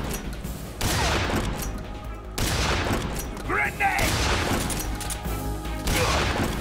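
A grenade blast in Metal Gear Solid 3 sounds as a loud burst of explosive noise among several heavy booms and gunfire-like crashes, with a man's speech running over the game sound.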